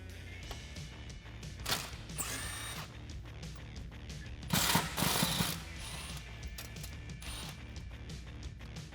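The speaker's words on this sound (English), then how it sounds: "Now you're going to need a 10mm socket, and we're going to remove the 2 bolts on either side that are holding the cover on." A 10mm socket ratchet loosens the sway bar cover bolts on a Jeep Wrangler, giving quiet clicking ratchet bursts and a couple of louder metallic clatters, close up with no talking.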